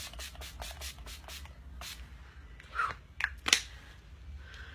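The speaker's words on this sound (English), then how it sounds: "I spray that all over my face before I do my eyeliner, mascara, or lips" Several quick hissing bursts of makeup finishing spray from a spray bottle onto a face come in a rapid series, followed by a few sharper, louder spritzes close to the microphone, with no talking.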